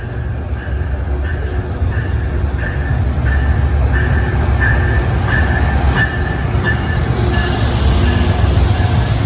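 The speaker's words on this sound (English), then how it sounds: "this is 857 for Poughkeepsie, and he's got the Conrail" Commuter train 857 to Poughkeepsie rolls past in Harlem, a loud steady rumble with rhythmic wheel clicks over rail joints and faint squeals throughout.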